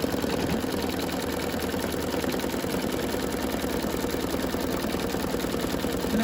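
An embroidery machine stitches down a large square in burgundy red thread for a planner cover, its needle running in a fast, steady mechanical chatter that stays level and close without any talk.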